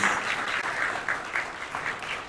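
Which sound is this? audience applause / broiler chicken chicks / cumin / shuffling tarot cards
audience applause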